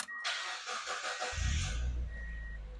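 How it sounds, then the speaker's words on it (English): A 1999 Mazda Miata with a 5-speed manual cranks briefly with a chime sounding, then catches and fires into a loud, steady idle close by. "I'll fire it up."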